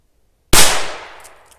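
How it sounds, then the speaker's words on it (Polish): A Korsarz K0204-2 Hestia firecracker goes off once with a sharp, loud bang after silence, followed by a short decaying echo and faint crackle. "No i bardzo fajnie, że te petardy draskowe jednak bardzo długi zapłon mają."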